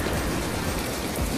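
Steady rain pours down in a dense, close, unbroken patter with no voices.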